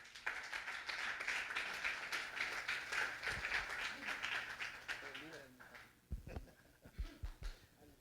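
A church congregation claps together in a sustained, fairly distant round of applause that fades out, followed by a few scattered thumps and a voice speaking.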